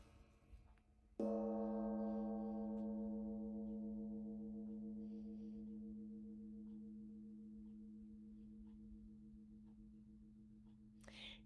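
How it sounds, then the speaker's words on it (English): A single metallic gong strike rings out, its deep shimmering tone sustaining and slowly fading over many seconds, with a faint tap near the end. "This instrument is a gong."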